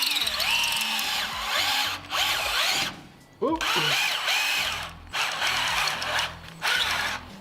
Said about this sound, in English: Let's go ahead and get a drill bit in there.